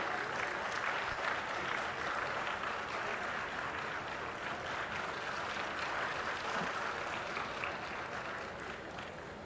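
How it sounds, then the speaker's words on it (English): A large audience at an official launch ceremony for a non-GMO maize variety claps in sustained, even applause that fills the hall and tapers slightly toward the end, somewhat distant. "Let us give a resounding round of applause to this landmark achievement"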